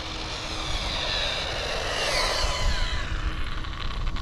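A JJRC Q117 RC car runs at full throttle with a Hobbywing ESC, giving a loud, steady high-pitched whine that stays up for the whole stretch with no talk over it.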